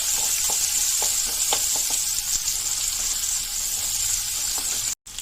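Onions, green chillies and curry leaves fry in a pan for a cucumber curry, giving a steady close sizzle with a few faint utensil clinks and no talk.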